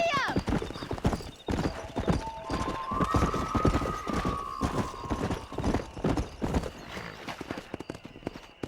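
Horse hooves clip-clop steadily through a ride in the Red Dead Redemption video game, with occasional whinnies, game music and talking voices layered over the rhythmic hoofbeats.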